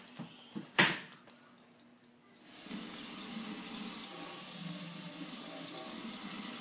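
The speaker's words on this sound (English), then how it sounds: "we're going to put a little water on them and see how NeverWet they are." After a few soft knocks and handling clicks, water pours onto new shoes sprayed with NeverWet water-repellent coating, a steady faint splashing trickle that runs for several seconds.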